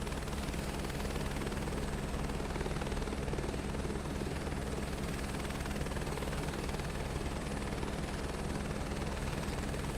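Chinook helicopter flying in the MSFS 2024 simulator, a continuous heavy rotor drone with steady engine hum, loud and unbroken throughout.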